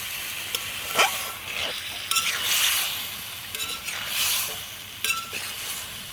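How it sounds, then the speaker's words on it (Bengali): Drumsticks and potatoes fry in spice paste for a rohu fish curry, a close crackling sizzle rising and falling with the stirring, broken by a few sharp clinks of a utensil against the pan. "এখন আমি সাজনা আলুটাকে আবার মশলার মধ্যে কষিয়ে নেব।"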